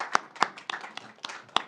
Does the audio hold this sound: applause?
yes